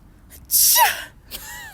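A voice imitates a distinctive sneeze with a sharp gasping intake followed by a loud burst, then a softer breathy tail, close and alone.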